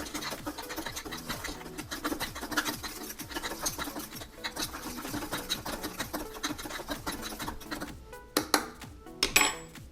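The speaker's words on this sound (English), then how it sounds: "Stir it up well. We use a chopstick." Pumpkin seeds mixed with cinnamon are stirred with a chopstick in a container, giving a continuous rapid scraping and rattling, fairly quiet and close, ending in a few sharper knocks.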